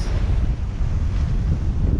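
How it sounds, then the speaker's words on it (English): Big ocean waves during a rough sea crossing to Inagua amid severe squalls, heard as a continuous loud, rumbling wash with heavy wind buffeting the microphone throughout and no voices. "Just noticed some big waves."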